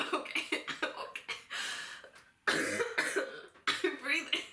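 Several short, sharp coughs come in quick bursts at close range, broken up by breathy pauses, with speech close to the microphone in between.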